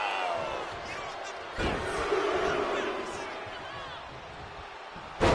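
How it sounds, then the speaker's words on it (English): Arena crowd noise from the WWE 2K26 wrestling game, a steady roar of fans with a couple of sharp slam-like hits, loud throughout. "And now Jimmy Uso is playing to the crowd"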